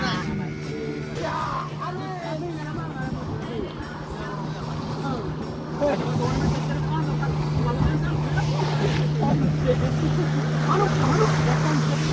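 Off the Konkan coast, a motorboat on a dolphin ride makes a steady engine drone mixed with splashing water and wind, while people talk and call out over it throughout.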